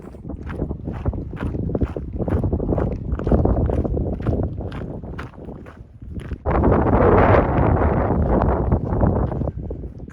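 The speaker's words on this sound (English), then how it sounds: "It's cold and it's windy" Strong gusting wind on a mountain bald along the Appalachian Trail buffets the microphone in a continuous roar, with rhythmic crunching footsteps underneath and a louder blast in the second half.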